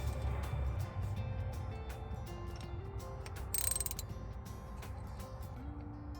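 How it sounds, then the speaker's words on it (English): Ratchet wrench with a 7/16 socket snugging a bolt on the air filter regulator of an Eaton Fuller truck transmission, giving a steady run of close mechanical clicking with a brief louder burst midway. "Now I'm going to go ahead and put my 7/16 socket on there."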